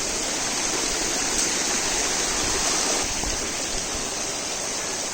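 Rainwater pouring down a mossy, rocky mountain slope on the Ghangad Fort trek during heavy monsoon rain, a loud, steady, close rushing roar like a stream that never lets up.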